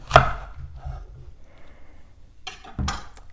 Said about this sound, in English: we're going to cut the apple in half